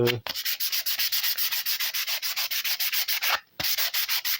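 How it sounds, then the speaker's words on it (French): Close, loud rhythmic back-and-forth rasping as Peugeot 306 car body panels are sanded to scuff the clear coat before repainting, with about two strokes per second and one short pause, and no voices. "Là, on va bien les poncer."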